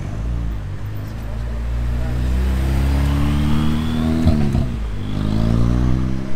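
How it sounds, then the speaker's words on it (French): A Dallara Stradale sports car approaches with a loud, rising engine note and shifts at close range during carspotting at Top Marques Monaco 2023, while faint voices are heard around it. "Alors ici Dallara Stradale qui arrive,"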